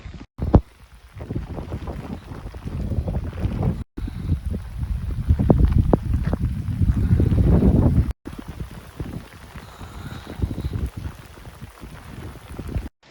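Strong 50 mph wind roars and buffets across the high slopes of Mauna Kea in Hawaii, a loud gusting rush that fills the whole stretch with only brief breaks.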